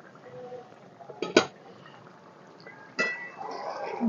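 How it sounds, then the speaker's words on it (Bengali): A metal lid lifted off a cooking pot of chicken and potatoes simmering Bengali style, giving a clear clink near the middle and another scrape and clatter toward the end, close and fairly loud in a quiet kitchen. "বন্ধুরা চাপাটা খুলে দেখে নেব।"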